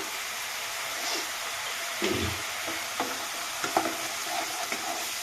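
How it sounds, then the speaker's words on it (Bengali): Spices frying in a pan for a shol fish curry while being stirred, a steady close sizzle with a few scraping knocks of the spoon, no talk. "একটু একটু সময় নাড়িয়ে চাড়িয়ে নিলাম"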